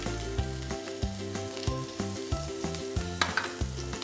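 Chopped large onions are added to hot oil and fry with a steady, crackling sizzle, punctuated by regular soft knocks of a spoon stirring in the pan, close and moderately quiet.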